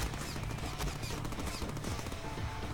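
Rapid automatic gunfire rattles continuously in a Deadpool video game, dense, loud bursts layered over one another with no pauses.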